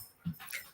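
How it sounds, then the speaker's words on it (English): A dog whimpers faintly in the background of an indoor room, one brief low whine followed by a thin high-pitched cry, quiet and distant. "you may hear something in the background, and that's my dog."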